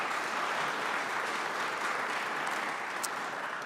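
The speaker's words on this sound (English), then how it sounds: "That does deserve a round of applause." Steady applause from an audience at a joint congressional hearing on veterans affairs, a sustained wash of clapping at even loudness throughout with no voices over it.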